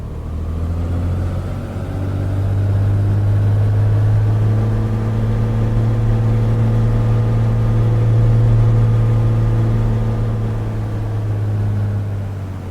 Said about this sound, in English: Let's pop in the parking brake and run the engine up just to make sure that it's okay